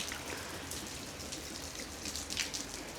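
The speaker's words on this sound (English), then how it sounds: "Here is the current situation at my house. It's raining." Rain falls outside a house in a soft, steady hiss with scattered faint drips and patters, fairly quiet and continuous, with no voices.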